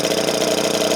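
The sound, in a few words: vintage Velo Solex 1700 moped engine running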